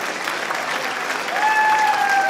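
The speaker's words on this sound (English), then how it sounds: "One more round of applause for them." An auditorium audience applauds honorees at a high school spring concert, a steady dense wash of clapping that holds loud and even throughout, with a faint sustained tone rising in the background near the end.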